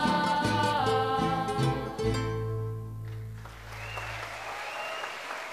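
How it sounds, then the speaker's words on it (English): An audience at a mariachi performance applauds, a warm wash of clapping that tapers off while band music and brass notes ring out over it. "one more round of applause, please"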